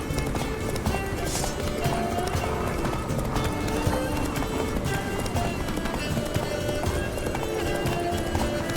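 Hooves pound in a fast, steady gallop close by, with a brief horse whinny early on over a busy game soundscape in The Witcher 3: Blood and Wine.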